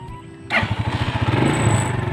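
A declutch motorcycle engine fires up via push-button start, a sharp catch followed by a close, steady rhythmic putter of idling that continues to the end.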